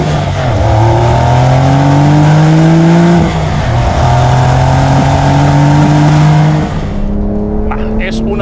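A 2023 Porsche 911 Carrera T engine heard from inside the car, loud and close, rising in pitch through gears with quick drops at each shift, a strong progressive acceleration pulling through several upshifts before easing off.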